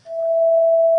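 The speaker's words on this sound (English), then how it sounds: "This is called what we call a perfect fifth." A single pure sine tone, pitched a perfect fifth above a 440 Hz A, starts softly and holds steady and clear with no other sound around it.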